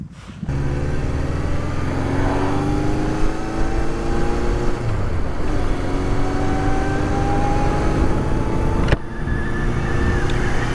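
A 1976 Honda 750 motorcycle being ridden, its engine note rising and falling as it accelerates through the gears, loud and steady with wind noise and no talking.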